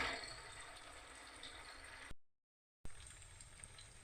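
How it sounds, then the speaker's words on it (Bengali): Chhana (cottage cheese) balls frying in hot oil, a faint steady sizzle and bubbling with a brief silent gap midway. "এই ছানার বলগুলোকে আমি লাল করে ভেজে নিয়ে তুলে নেব।"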